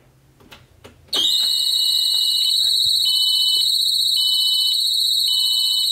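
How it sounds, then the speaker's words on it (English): A loud electronic warning alarm sounds throughout a fuel-injected Twin Anchors boat when the ignition key is turned on, a steady high-pitched tone with a pulsing beep, after a few quiet clicks. "there is going to be a loud alarm that goes on throughout the boat"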